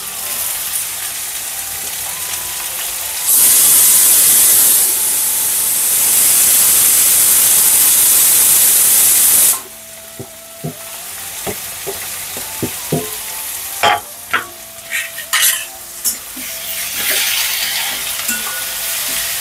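Chopped onion hits hot oil with whole spices and garlic for a Delhi-style chicken curry, bursting into a loud, steady sizzle that later drops to a softer fry broken by scattered clinks of stirring.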